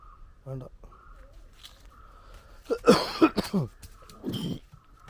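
A person with a cough lasting several days coughs several times in a harsh cluster, preceded by brief voice sounds in an otherwise quiet room.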